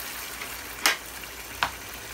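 Chicken and pork adobo simmering in a covered pan gives a low steady hiss throughout, broken by two sharp crackling pops near each other.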